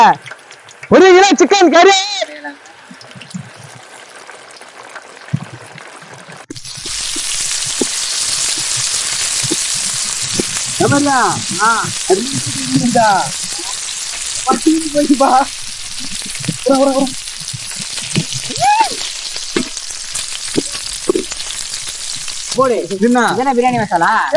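Chicken sizzles and fries steadily in a pot for village-style chicken biryani, with occasional stirring and someone talking intermittently over the continuous crackle.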